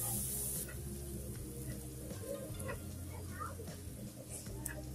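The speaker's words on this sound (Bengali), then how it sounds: "আবার ভালো করে একটু নেড়ে চেড়ে নিচ্ছি" Green chili paste frying in a pan for vegetarian aloo dum while being stirred, giving a steady sizzle with scraping stir sounds and a low hum underneath, moderately loud and continuous.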